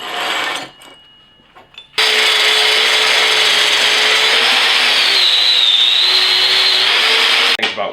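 A power tool cuts roller chain for a seahorse sculpture, loud and steady with a high grinding whine after a few brief starts and bumps, running continuously until it cuts off near the end.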